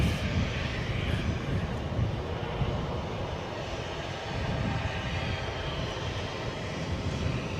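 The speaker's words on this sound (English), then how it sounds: "Let's have a quick look at this fast moving easyJet." An easyJet jet airliner moves fast along the runway at Edinburgh airport, its engines producing a loud, continuous rumbling roar close by that swells slightly near the end, with no talking.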